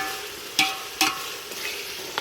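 Meat fries lightly in a pot for khichuri, with a soft steady sizzle and a couple of sharp scraping stirs of a utensil against the pot, close and fairly quiet, no voices.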